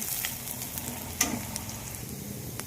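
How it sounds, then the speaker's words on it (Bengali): Chili and cumin seeds crackle in hot oil as a tempering for kulekhara greens, a steady soft sizzle with one sharper pop midway, no voices. "এই যে ফোড়ন দিয়ে দিলাম, লঙ্কা দিয়ে দিলাম, তার সাথে হালকা একটু জিরে দিয়ে দিলাম ফোড়নের জন্য"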